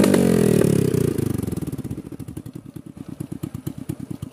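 A motorcycle engine roars loudly, then settles into a rhythmic idle, its putting beats pulsing steadily up close.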